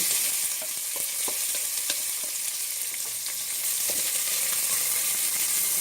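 Onion frying in a pan for a mung bean coconut curry, a bright steady sizzle with small crackles and occasional scraping stirs, close and continuous, with no voices.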